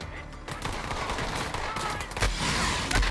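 Shotgun blasts in the video game Borderlands 3 boom out in a dense, rapid run of loud, close shots over a busy layer of game noise.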